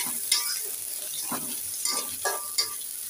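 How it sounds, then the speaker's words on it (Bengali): Onions fry in a pan with a soft, close sizzle and hiss. A few light stirring clinks and scrapes come through at spaced intervals. "পেঁয়াজটা সুন্দর করে ভেজে নিচ্ছে"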